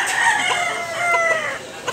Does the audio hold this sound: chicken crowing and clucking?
yes